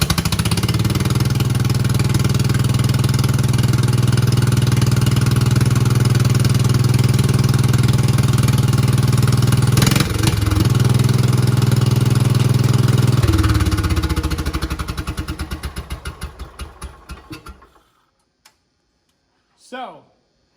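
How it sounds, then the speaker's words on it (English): A repaired, rewired tractor engine runs with a steady, loud mechanical clatter up close for most of the stretch, changes pitch partway through, then sputters and shuts down, leaving near silence with a brief sound at the end. "As you just heard, tractor is back up and running."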